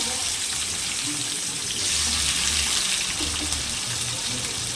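Tomato pieces fry in oil in a pan for chutney, giving a dense, steady sizzling hiss that stays close and loud throughout, with no voice.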